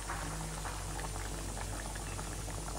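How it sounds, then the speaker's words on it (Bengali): Bottle gourd curry boiling on a gas stove, a continuous close bubbling and simmering of liquid with soft pops, steady throughout, no voices. "আর এদিকে কদুতে অনেক ঝোল উঠছে"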